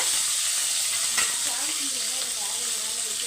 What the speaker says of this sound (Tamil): இது கூடயே முருங்கைக்காவையும் சேர்த்துடுங்க சேர்த்துட்டு வதக்கி விட்டுருங்க